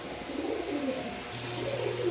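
A male pigeon coos in low, rolling repeated phrases at moderate loudness, held close, with a steady hum beneath and no talk over it.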